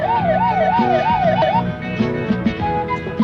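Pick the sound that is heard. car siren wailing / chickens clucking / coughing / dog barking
car siren wailing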